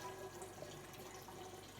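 Water dispenser on a Samsung RF4287HARS refrigerator filling a half-gallon pitcher, a soft, steady trickling stream with a faint hiss, quiet and continuous without talk.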